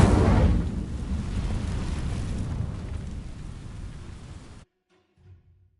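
Incendio fire spell setting dry vines ablaze in Hogwarts Legacy, a loud whooshing burst that settles into a steady crackling roar of flames, then cuts off into near silence.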